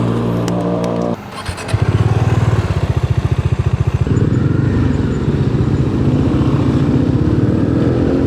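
A motorcycle engine runs close by, a steady rapid low thumping after a brief quieter start, the idle pulsing continuing loudly throughout with no talking.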